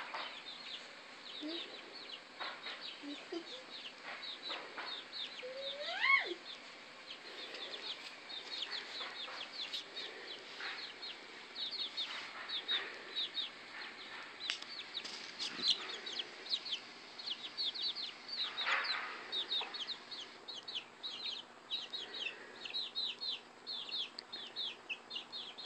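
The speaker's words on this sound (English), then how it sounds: "Get the chickens." Chickens cluck and squawk around the yard in a busy, continuous outdoor chorus of short calls, moderately close, with scattered chirps and occasional louder squawks throughout.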